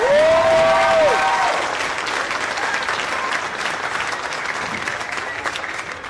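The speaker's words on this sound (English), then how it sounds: "Can we give them one more round of applause, please?" An audience claps steadily at an elementary school junior spring orchestra concert, with a brief whistle at the start, the applause sustained and fairly loud before thinning slightly toward the end.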